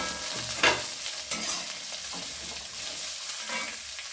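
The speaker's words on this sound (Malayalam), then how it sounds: "ഇനി അരിഞ്ഞ് വെച്ച സവോള ഇടാൻ പോവുക. ഒന്ന് വഴന്നോട്ടെ." Chopped onion sautéing in a hot pan for a leftover idli dish, giving a continuous close sizzle broken by several scraping stirs of a spoon against the metal, with no talk.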